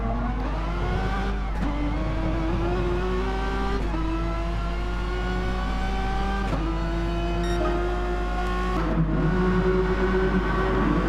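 Renault touring cars racing at Laguna Seca in a racing video game: loud, continuous engine roar with repeated rising revs and sharp gear-change dips as the cars fight closely together.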